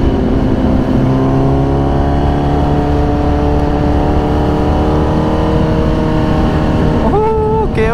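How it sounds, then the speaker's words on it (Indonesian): A Honda CBR 1000 RR superbike exhaust holds a steady, loud, throaty drone, then rises sharply in a quick rev near the end. "Suara knalpotnya gahar juga ya teman-teman ya."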